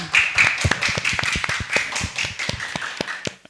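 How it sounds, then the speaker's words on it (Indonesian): A small group claps at a junior high school student council event in Jakarta, the separate sharp hand claps clearly distinct in a loose, uneven rhythm that thins out toward the end. "Oke, tepuk tangan dulu dong."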